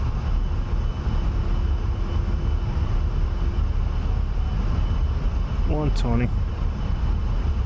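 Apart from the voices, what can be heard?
A-10A jet taking off in DCS video game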